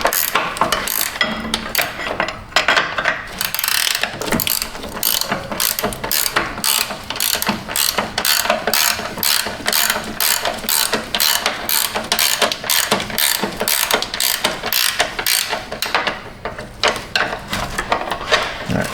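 Ratchet wrench working on a Chevy Tahoe upper control arm, a steady run of sharp, rapid clicking strokes repeating for the whole stretch, close and loud with no voices.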